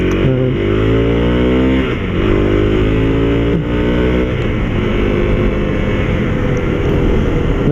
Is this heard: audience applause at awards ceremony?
no